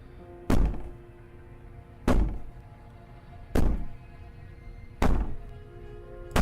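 Heavy, booming bangs from the video game Slay the Princess, five loud thuds at a steady pace about a second and a half apart, each decaying into a low rumbling room tone, with no talk over them.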